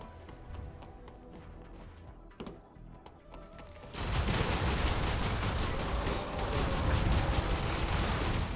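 Dense, sustained gunfire from a gun in the video game Stellar Blade bursts in partway through and roars on loudly, following a quieter stretch with some scattered noises.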